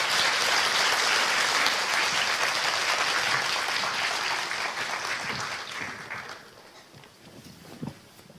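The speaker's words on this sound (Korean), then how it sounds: "두 분을 큰 박수로 맞이해 주세요" An audience at a Seoul book celebration applauds to welcome two singers, dense clapping that holds steady for several seconds, then thins out and fades, leaving a few scattered claps and room noise.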